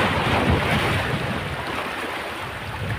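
Sea waves wash and break against the rocks of Calaguas beach, a loud continuous surf roar with strong wind buffeting the microphone.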